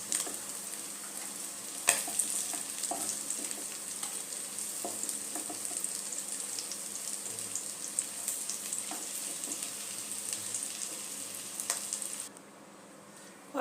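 Fish roe fritters sizzling in hot oil in a pan, a continuous bright crackling hiss with scattered pops and light stirring clicks, close and steady until it suddenly cuts out near the end.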